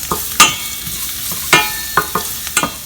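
Chopped garlic frying in hot oil for vegetable fried rice while a utensil stirs it, with sharp intermittent scrapes and taps against the pan over a soft sizzle, close and fairly loud.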